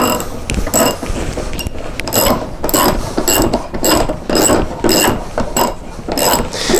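Pool filter housing being hand tightened, producing a close, rhythmic series of plastic ratcheting clicks and creaks repeating about every half second.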